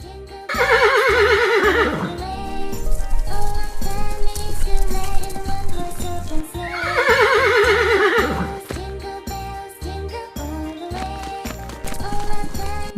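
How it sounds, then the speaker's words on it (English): A horse neighs twice, each whinny a loud descending call, with clip-clop hoofbeats and other sounds between them. "horse,"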